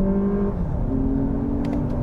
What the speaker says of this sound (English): We'll floor it and build boost. Ooh, it's actually spinning the tires.